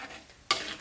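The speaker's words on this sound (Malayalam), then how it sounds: "കടുക് പൊട്ടുന്ന ശബ്ദം നിങ്ങൾക്ക് കേൾക്കാം" A sudden crackling sizzle of mustard seeds popping in hot oil bursts out after a quiet moment, brief and close.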